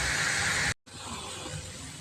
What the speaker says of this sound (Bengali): ভাজা ভাজা হতে থাকুক।